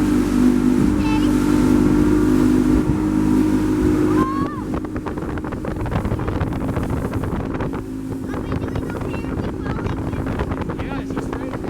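A motorboat on Lavon lake runs under throttle, a loud steady engine drone with heavy wind buffeting on the microphone and water rushing against the hull, shifting in tone partway through, with voices in the background.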